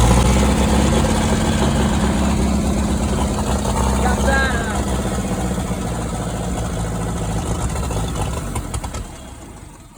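Ferguson TEC20 tractor engine running at a steady idle, close and loud, with a deep low throbbing that continues throughout before cutting off near the end.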